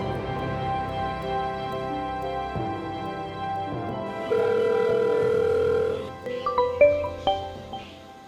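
A landline phone rings with a steady tonal pattern, then a few quick electronic tones follow as numbers are dialed, clear and close with no talking.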